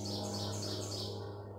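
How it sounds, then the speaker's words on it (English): A bird calls from the woods by Crystal Lake, repeated chirping notes over a steady low hum of background noise, moderately close and continuous. "got a really cool bird"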